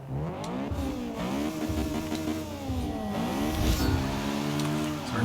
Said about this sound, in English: I wish the car revved like this.